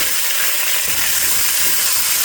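Carrots and other vegetables dropped into a hot pot for pot roast, giving a loud, steady, broadband sizzle and hiss close by, with no talk.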